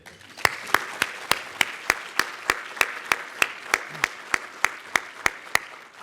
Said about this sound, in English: I'd also ask that we provide a round of applause for the folks who supported our award winners in getting here today